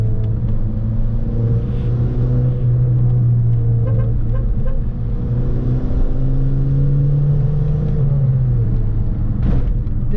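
A Škoda Laura vRS with a tuned 1.8 TSI engine and manual gearbox pulls hard, its engine drone rising in pitch through the gears with a steady, loud rumble inside the cabin.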